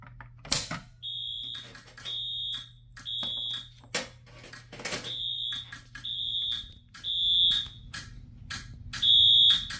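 A fire alarm system on a KEFA Relaypad panel with Wheelock horns and strobes sounds a full alarm, repeated shrill beeping tones in short bursts, loud and close, alongside sharp clicking pulses and a low hum.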